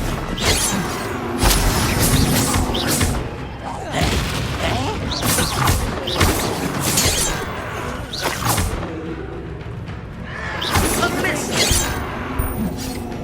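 Confringo blasting spells in Hogwarts Legacy go off as repeated loud booms and whooshing bursts amid clattering combat noise, with voices calling out between the blasts.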